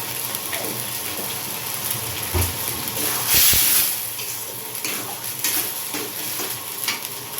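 Ghee sizzles in a pan during cooking of muri ghonto, a fish-head dish, with scraping and stirring sounds and a brief louder burst midway, steady throughout with no talking.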